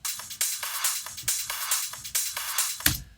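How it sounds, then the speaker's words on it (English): A drum sample loop from a dance producer's sample pack plays alone, punchy kicks and bright hi-hats and percussion hits repeating in a steady, driving rhythm, loud and close. "So this is just a sample loop from one of my sample packs."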